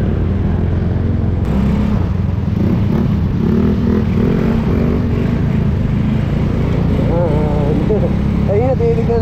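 An old Yamaha Nouvo Z scooter is ridden along a road, its engine drone loud and steady throughout with wind rush and a rise in revs near the end, while a voice is faintly audible beneath.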